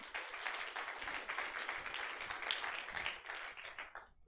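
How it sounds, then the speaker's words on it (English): Steady applause from an audience, a dense wash of many hands clapping continuously for a few seconds at moderate volume. "Let's give her a round of applause."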